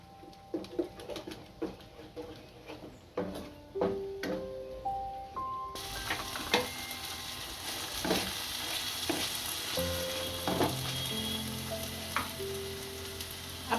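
Oil sizzles steadily in a pan as tomato gravy cooks, growing louder partway through, with scattered clicks and clatter of a spoon against the cookware.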